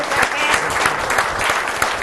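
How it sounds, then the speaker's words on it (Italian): An audience at a Paralympic sports event in Veneto applauds, a loud continuous clatter of many hands clapping nearby, sustained evenly from start to finish with no talking. "E facciamo un applauso"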